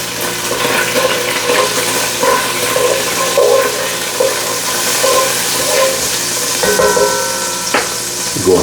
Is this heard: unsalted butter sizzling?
yes